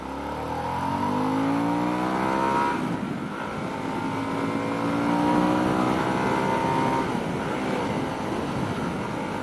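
A Harley-Davidson Sportster S accelerates down a highway with a strong, rising engine note that climbs through the gears. Steady wind roar sits beneath it, heard close from the rider's position.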